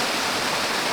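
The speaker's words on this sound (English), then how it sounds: "So it's a beautiful waterfall." A waterfall near an off-road water crossing pours with a dense, continuous rushing roar, loud and steady throughout.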